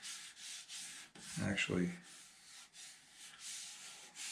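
Steady rubbing sanding strokes on a wooden guitar body, repeated in a loose rhythm, with a short spoken word in the middle.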